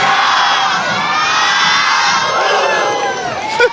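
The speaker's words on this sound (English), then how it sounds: "Let's see what's going on. And the cheer." Young Bulldogs squad cheering at a Durham holiday parade, a loud, sustained crowd of high voices shouting and whooping together outdoors, steady throughout with a brief louder burst at the end.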